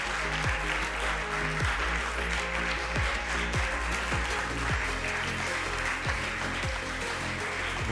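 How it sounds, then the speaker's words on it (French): Sustained applause from an audience at a bookshop prize ceremony, steady dense clapping filling the whole stretch with no voices over it. "je vous demande d'accueillir et d'applaudir la librairie du Plateau"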